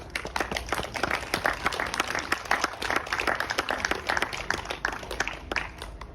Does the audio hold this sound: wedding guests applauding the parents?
yes